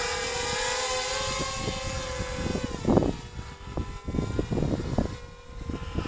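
A DJI Spark drone carrying a 360 degree camera flies close by with a high whining propeller buzz that shifts in pitch. Wind gusts and thumps buffet the microphone.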